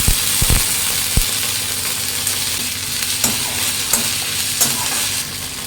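Ginger paste sizzles in hot oil in a home kitchen pan, with a steady frying hiss broken by several sharp scrapes and knocks of a spoon stirring it.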